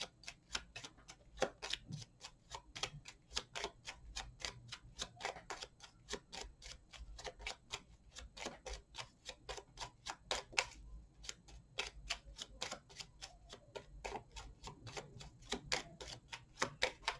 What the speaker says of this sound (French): on va couper et prendre la première carte